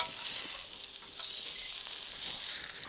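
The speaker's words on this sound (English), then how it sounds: "Stirring until the mushroom gets soft." Mushrooms stir-frying in a hot pan with peanuts for spicy Khmer tofu, a steady bright sizzle with louder surges as the pan is stirred, no voices.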